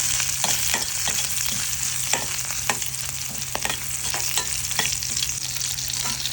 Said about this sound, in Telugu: కరివేపాకు ముక్కలు, వెల్లుల్లి ఇవి కూడా ఫ్రై చేసుకోవాలి.